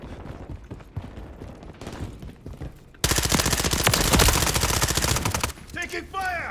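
Rapid bursts of automatic gunfire in the video game Call of Duty Modern Warfare 3, loud and sustained from the middle onward after sparser scattered shots, with brief effects layered near the end.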